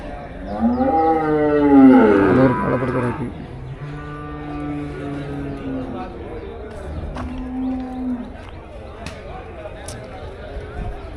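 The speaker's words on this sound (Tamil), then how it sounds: "ஃபுல்லாகவே மாடு தான்" A bull or cow bellows loudly up close at the Melapalayam cattle market, a long rising moo peaking early, followed by fainter lowing and market bustle with people talking in the background.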